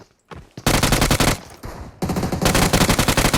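Automatic weapon fire in the battle royale game PUBG Mobile comes in loud, close, rapid bursts, a long rattling volley, a brief pause, then another sustained burst of shots.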